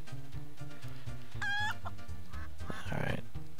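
Cartoon chicken clucks from the N64 game Elmo's Letter Adventure, a short run of bright squawking clucks over a steady bouncy game music loop, with a burst of busier game sound following.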